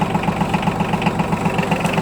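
A Yanmar F145D compact 4WD tractor with a 15 hp three-cylinder engine and 542 hours idles smoothly and close by, a steady, even chugging pulse with no other sounds.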